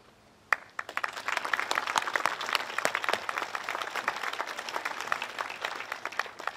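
Sudden burst of applause from a crowd at a governor's event in Nicholas County, steady sustained clapping that continues loudly to the end.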